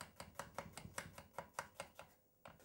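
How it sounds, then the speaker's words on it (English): An onion sliced finely with a knife on a board, about a dozen quick, evenly spaced chops, close and crisp, then a brief pause and one last cut. "get the onion, get it a little, and just slice it"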